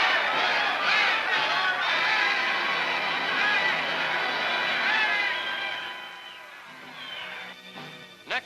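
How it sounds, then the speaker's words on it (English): Dense, noisy crowd massed at the gates of the Japanese Premier's home in 1946 as police try to push it back, a loud sustained clamor of voices that thins and fades toward the end. "At the gates of the Premier's home, Japanese police try vainly to force the crowd back"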